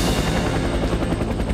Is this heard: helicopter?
yes